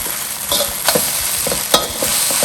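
Gobi Manchurian, fried cauliflower in sauce, stirred in a hot pan: a steady sizzle with several sharp scrapes and clinks of the spatula, close up and fairly loud.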